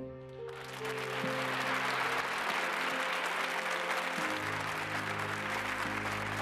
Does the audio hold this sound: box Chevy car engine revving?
no